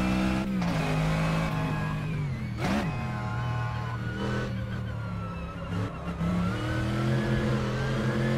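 Race car engine in a driving video game, a Mazda, revving and rising and falling in pitch through a drifting corner, with brief tire-squeal-like sweeps and no speech.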